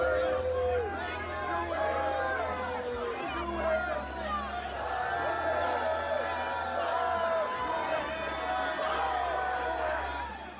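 Dense, continuous crowd noise at a Trump rally in Tampa, an angry throng of many overlapping voices shouting and chattering with occasional whoops, steady and loud throughout.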